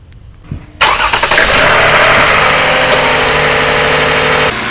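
A 2012 Lexus ES350 with the 2GR-FE V6 cranks briefly, catches and settles into a loud, steady idle heard up close, humming evenly until it dips slightly near the end.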